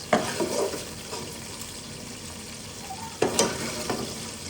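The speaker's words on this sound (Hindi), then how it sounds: "इसको ज़्यादा फ्राई नहीं करना, इसको लाइट फ्राई करना है।" Food lightly fries in a pan with a steady, soft sizzle, close up, while a utensil stirs and scrapes against the pan a couple of times.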